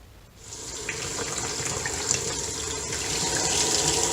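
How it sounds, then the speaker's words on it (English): Water runs steadily from a sink tap as a LifeStraw water filter is rinsed under it, a continuous close splashing hiss that swells slightly after a brief quieter start. "We'll move it over to the sink, rinse it off,"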